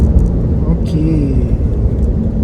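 A 2026 Alfa Romeo Giulia Veloce on a Malaysian test drive gives a smooth, low engine rumble from the cabin, mostly steady and heard under people talking.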